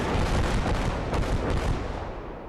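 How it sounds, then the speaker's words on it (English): Artillery salvo exploding in the World War II video game Call to Arms – Gates of Hell: Ostfront, a thick, rumbling roar of blasts that fades toward the end, loud and close, with no talking. "And there goes the second salvo."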